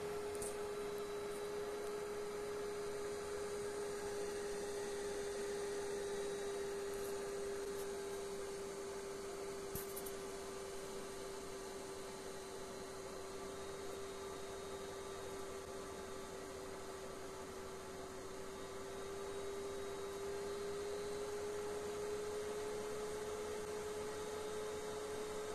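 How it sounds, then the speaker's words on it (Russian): A Fujitsu mini PC with an i5-4590T processor and a single cooling fan spinning at maximum speed gives off a steady, constant whir with a faint tonal hum, continuous and unchanging with no talk. "И хотя здесь один единственный вентилятор, но на максимальных оборотах шумит он очень знатно."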